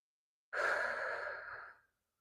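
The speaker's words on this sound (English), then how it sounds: "So I invite you to make a few deep breaths in and out." A single long, loud breath out, like a deep sigh, fills about a second and a half in a quiet setting during a guided group breathing practice.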